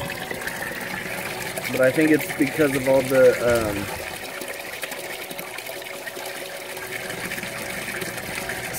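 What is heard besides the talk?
water draining out of a nutrient tub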